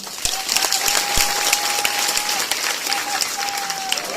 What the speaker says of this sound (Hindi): जोरदार ताली लगाएं।